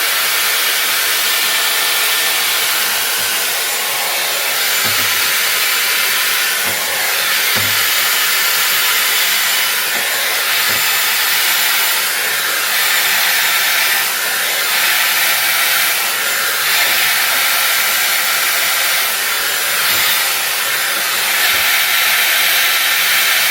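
A Dyson hair styling tool blows air in a steady, loud hiss that runs unbroken throughout, with faint low thumps and handling noises underneath.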